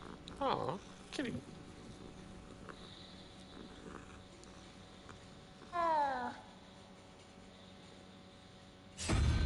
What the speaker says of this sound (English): Aw, kitty.